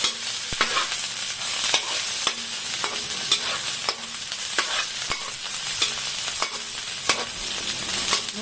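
Garlic or onion sautéing in hot oil in a pan, a steady bright sizzle with sharp utensil scrapes and taps every second or so, close and fairly loud, no voices.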